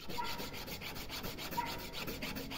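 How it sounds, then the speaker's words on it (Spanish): Steady back-and-forth rubbing of sandpaper on the edges of a key in repeated short strokes, close and even, with no voices. "Vamos a empezar lijando los laterales de la llave."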